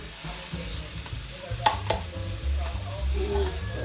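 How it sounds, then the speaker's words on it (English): Rice being tipped into a hot pan of roasting tomatoes, onions and garlic, with a soft rustling pour, a few sharp clinks and a steady sizzle as it is stirred, close and moderately loud, with no talking. "the tomatoes are sort of roasting with the onions and the garlic. So now let's go ahead and add the rice"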